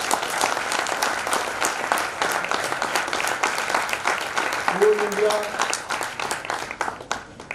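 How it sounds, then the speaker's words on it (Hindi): An audience at a Coal India vigilance awareness event bursts into sustained applause, dense clapping throughout, with a speaker's voice briefly heard over it. "इसके लिए भी एक ताली बनता है।"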